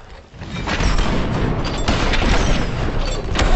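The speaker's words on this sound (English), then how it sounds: "Shit, explosive rounds." Explosive rounds fired in the Western video game Red Dead Online, a dense rumbling run of booming blasts that fills the whole stretch at steady loudness, with no talk over it.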